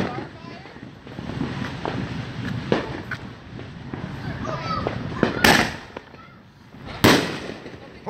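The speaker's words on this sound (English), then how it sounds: "check some more of our neighbor's firework right across the way" Neighbors' Fourth of July firework bursts and crackles booming at a distance, with two sharp loud bangs near the end, over wind noise and people talking.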